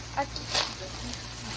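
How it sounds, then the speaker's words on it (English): Rice frying in a pan with sesame oil during an outdoor cookout gives a steady, close sizzling hiss throughout, with faint voices in the background. "You're frying the rice, you're cooking the Well, rice."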